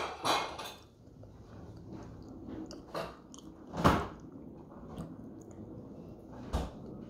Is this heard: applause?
no